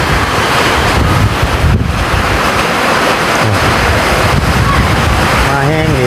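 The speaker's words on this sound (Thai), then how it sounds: "ทั้งลมทั้งฝนบาดนี่" Loud, constant buffeting of storm wind and rain battering the microphone outdoors in Thailand, a dense roaring rush that never lets up.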